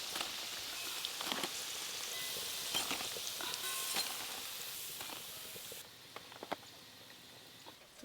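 Lentil fritters (dal bora) frying in hot oil: a soft, continuous sizzle dotted with small crackles and pops, which thins out toward the end.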